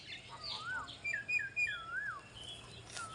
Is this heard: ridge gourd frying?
no